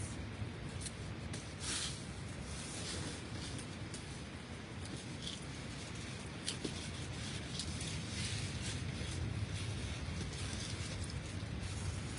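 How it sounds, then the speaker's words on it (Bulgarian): Steady wind gusting across an outdoor vegetable garden, a continuous broadband rush with a few brief clicks and rustles, constant and fairly close throughout. "Дано да се чувам добре, защото има малко вятър днеска"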